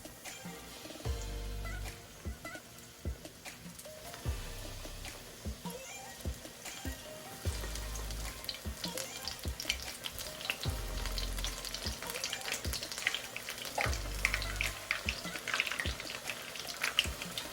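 Coconut-coated shrimp crackle and bubble in hot oil, a dense, continuous close sizzle with scattered pops that grows busier over time, and occasional low thumps beneath it.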